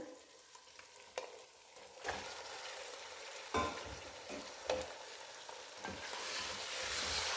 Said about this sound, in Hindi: इसको हम अच्छे तरीके से फ्राई कर लेंगे